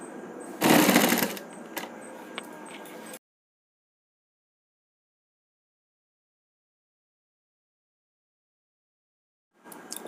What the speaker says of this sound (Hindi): अब यहाँ से हम सिलाई चालू करेंगे।